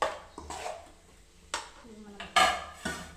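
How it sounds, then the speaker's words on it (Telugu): Pulihora tamarind rice being mixed in a metal vessel, with a few sharp scraping clanks of a ladle against the pot at irregular intervals, near and fairly quiet, each knock trailing off briefly. "ఇప్పుడు పులిహోర కలుపుకుందామండి"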